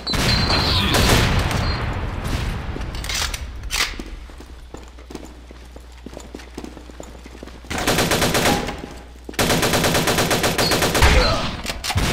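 Rapid bursts of shotgun and automatic gunfire in a video game, loud and dense, with near-continuous volleys broken by a quieter stretch before heavy firing resumes.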